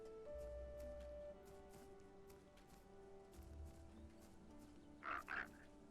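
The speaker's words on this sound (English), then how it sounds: "He hears a frog." In the survival game Path of Titans, a frog gives faint, low croaks twice amid quiet ambient forest sound, followed near the end by a couple of brighter, brief calls.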